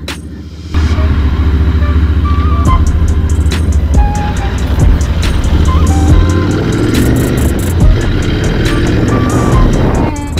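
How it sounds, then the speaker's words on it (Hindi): Riding a Royal Enfield Bullet motorcycle: a loud, continuous engine rumble mixed with road and wind noise as the bike moves along. "ये बाइक बड़ी प्यारी चलती है,"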